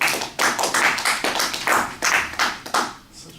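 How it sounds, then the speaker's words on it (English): Sparse applause from about five people, a thin run of close, distinct hand claps lasting a few seconds before fading out. "Such a pitiful applause of 5 people."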